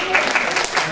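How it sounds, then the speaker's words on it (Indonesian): An audience at an open house event claps for a speaker about to take the stage, a brief burst of loud applause heard up close with voices mixed in. "beri tepuk tangan yang paling keras untuk Bapak Joko Sutopo."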